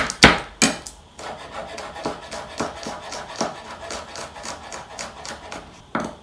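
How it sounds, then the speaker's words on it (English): Garlic cloves minced with a knife on a cutting board, a few loud chops at the start, then a quick run of light, rhythmic taps and scrapes, ending with one more sharp chop. "I'm just gonna go ahead and mince those"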